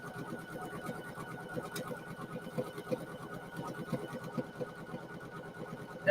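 A Poolin EOC06 single-needle embroidery machine runs steadily, its needle striking in a fast, even rhythm with a constant motor hum, close up and alone.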